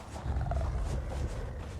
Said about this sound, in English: I hear something growling.